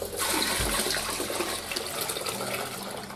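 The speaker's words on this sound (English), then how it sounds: "get another pan underneath, fill it up and pour it back again" Homebrew imperial stout wort is poured from one pan into another to oxygenate it, making a continuous loud splashing, gushing rush of liquid close by that tapers slightly over three seconds.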